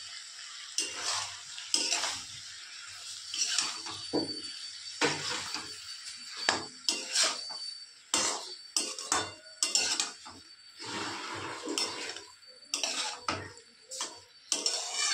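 Sauces being stirred into chili gobi in a pan, with irregular scraping and clinking of a utensil against metal and light sizzling throughout, close and fairly quiet, no talk.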